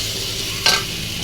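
Bitter gourd is stirred with spice paste in a pan, with a steady, close frying hiss and a single short spoon scrape partway through.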